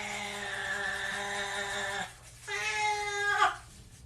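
A cat lets out a long, drawn-out meow, breaks briefly, then gives a second rising, strained meow close by.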